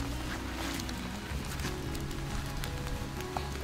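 Rain patters steadily at a lakeside spring campsite, a dense continuous hiss of drops falling on surfaces close by, with a low hum underneath and no talking.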